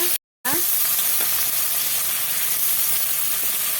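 Dried red chillies, cinnamon, cloves and cardamom tempering in hot oil left from frying pointed gourd for potol dorma, a steady close sizzle and crackle after a brief silent break near the start, with no talk.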